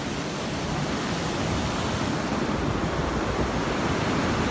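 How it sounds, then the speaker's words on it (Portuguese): Ocean waves wash onto Barra Velha beach in a constant loud broadband roar, with steady surf and wind noise and no pauses. "praia de Barra Velha"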